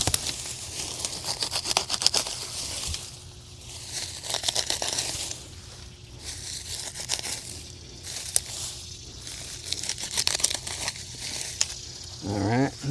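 Daylily foliage being cut back in a garden, with close crinkling, tearing rustles of leaves and stems in repeated bursts throughout.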